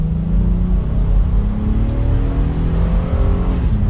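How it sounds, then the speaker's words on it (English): A 2022 Honda Passport Trailsport SUV with a V6 engine accelerates gently in its normal drive mode, a steady low engine drone and rising hum heard from inside the cabin. "We'll give it a little bit of gas in the normal setting."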